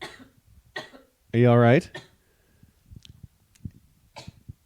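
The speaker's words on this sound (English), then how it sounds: "I had a little dry cough." A single short dry cough bursts out between bits of casual conversation, loud and close, with people talking quietly before and after it.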